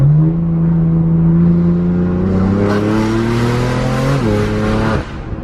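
A BMW F82 M4 with an Armytrix valved exhaust drones loudly from inside the car while driving, its engine note climbing steadily in pitch through a gear before a sharp drop as the revs fall off near the end.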